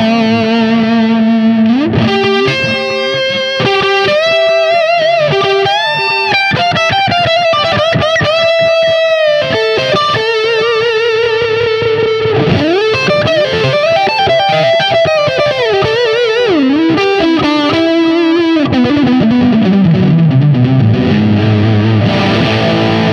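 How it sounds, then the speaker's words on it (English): An electric guitar runs through a Buffalo FX Rams Head fuzz (NOS BC239c transistors) with a Wampler Faux Tape Echo, playing a loud, saturated melodic line with sustained bends and trailing echoes that ends in a descending slide. No one speaks. "Add a little bit of the Wampler faux tape echo."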